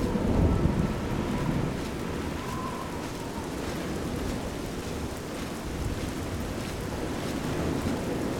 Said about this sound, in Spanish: y ahora llueve